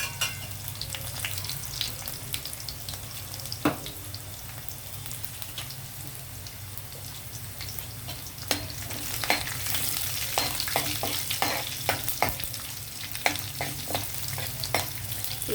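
Cumin and mustard seeds fry in oil in a pan for a bitter gourd dish, a soft continuous sizzle with scattered crackles and pops that grow busier toward the end, heard alone.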